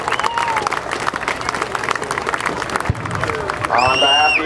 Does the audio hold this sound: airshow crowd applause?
yes